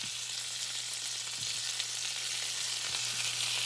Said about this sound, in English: So we're just going to put it all in this skillet.